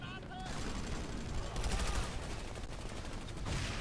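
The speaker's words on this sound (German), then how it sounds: "Er hat vier Schüsse mir gegeben und ich bin tot, ey." Rapid gunfire in Planetside 2, a dense burst of overlapping shots and impacts that continues loudly through the whole stretch.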